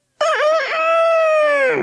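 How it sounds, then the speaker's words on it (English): A cockerel crows once, loud and close, one long strained, wavering call from a village garden next door, sounding almost strangled rather than a tidy crow. "old Mother Redpath's cockerel blasted the village awake with his self-important crowing"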